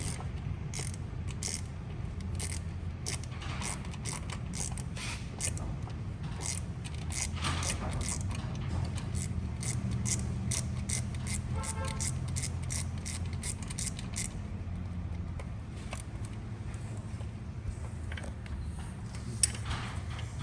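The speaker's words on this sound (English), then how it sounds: "So hold the socket with one and ratchet with the other." Rapid ratchet clicking in repeated bursts as a socket is turned while pulling the 3.8 V6 engine from a 2013-2016 Hyundai Genesis Coupe, close and clear over a low mechanical hum, with no talking.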